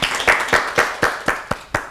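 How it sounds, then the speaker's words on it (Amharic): Audience applause in a studio on an Ethiopian children's TV quiz show, rhythmic unison clapping with about eight evenly spaced loud claps, close and alone. "አጨብጭቡለት በደንብ።"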